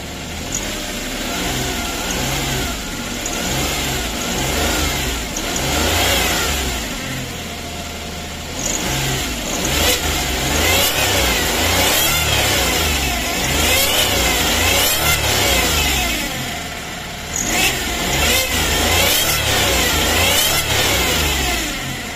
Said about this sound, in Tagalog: Ganito naman ang tunog kapag naka-revolution po ang engine.